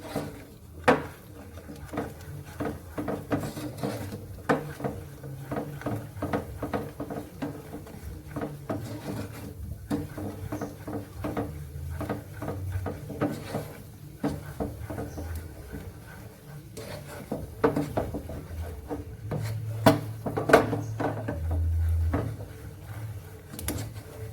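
Caramel for cream caramel is stirred continuously in a pan, a long run of rhythmic scraping and rubbing strokes with occasional knocks of the utensil against the pan.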